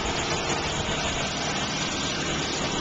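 A 2002 Oldsmobile Alero coupe with a 3.4 liter fuel-injected V6 idling at a car dealership, a steady low engine drone that stays even and constant, with no talking over it.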